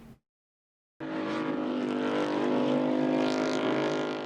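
Cars rev at night in a residential neighborhood, a sudden loud roar of engines that holds steady with rising throttle surges, heard from a distance after a moment of silence.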